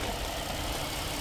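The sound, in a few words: car V6 engine idling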